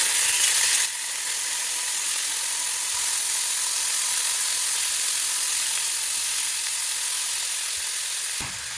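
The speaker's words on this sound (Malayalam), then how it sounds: "ഇനി ഫിഷ് ഒന്ന് ഫ്രൈ ചെയ്തെടുക്കാം അതിന് വെളിച്ചെണ്ണ ഒഴിച്ചിട്ടുണ്ട് ഇനി അതിലേക്ക് ഈ മീൻ കഷ്ണങ്ങൾ ഇട്ടു" Fish pieces frying in hot coconut oil give a loud, steady crackling sizzle that holds evenly throughout, with a brief clatter near the start and end and no voices.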